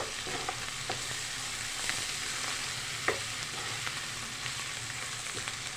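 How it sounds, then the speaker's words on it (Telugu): Coriander and curry leaves stirred into a frying dondakaya (ivy gourd) mixture in a pan for roti pachadi, giving a steady broadband sizzle with scattered scraping stir clicks, close and continuous with no talking. "కొంచెం కొత్తిమీర అలానే కరివేపాకు ఒకసారి కలదిప్పుకుందాం"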